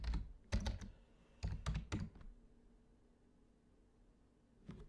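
Keys clatter on a computer keyboard as a short command is typed, a few sharp clustered taps followed by a pause and one final keystroke, close and clear over faint room hiss.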